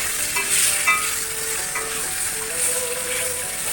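Potatoes and tomatoes frying in a pan are stirred, giving a steady close sizzle with soft scraping strokes of the spatula throughout.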